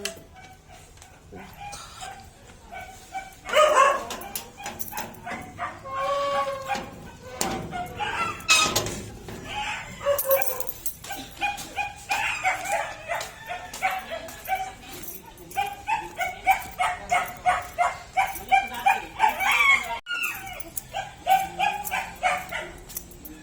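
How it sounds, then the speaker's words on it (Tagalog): Dogs bark repeatedly and noisily nearby, with roosters and chickens mixed in and some voices in the background. "Ang daming aso sa amin."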